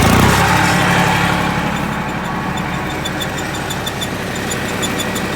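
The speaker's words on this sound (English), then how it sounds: "make sure it's out of gear, and then crank it up. And it's gonna get loud" A farm field sprayer's engine is cranked up and runs loud and close, a steady mid-pitched idle with a rhythmic knock and vibration that holds on alone.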